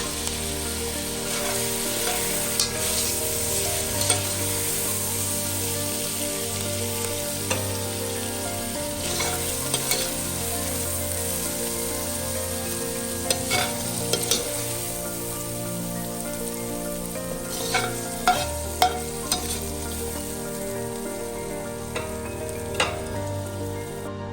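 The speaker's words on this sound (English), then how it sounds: "Once your vegetables are done sauteing and they're good and softened" Vegetables sauté until softened in a pan, a long, even hiss of frying with scattered pops and occasional stirring clicks, close and steady throughout.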